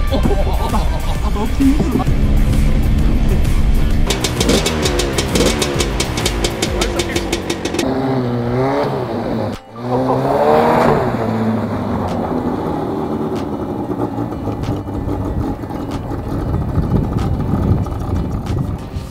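Powerful car doing a controlled drift, its engine roaring and revving through rising and falling sweeps at close range, with excited voices talking and shouting over the noise.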